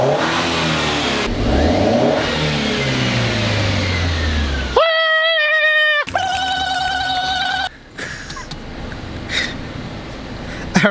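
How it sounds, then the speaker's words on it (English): A Mercedes engine, recently fixed of misfires and given new spark plugs, cranks, catches and revs up, then settles into running; loud and close, with pitch sweeping up and down during revving and some tonal beeps. "changing the starting position, start up the car"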